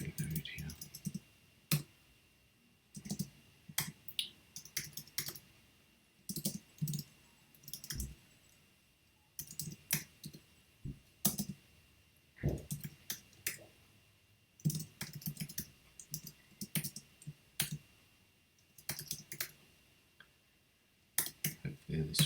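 PHP code being typed on a computer keyboard: quick bursts of crisp key clicks separated by short pauses, repeating steadily and close up throughout.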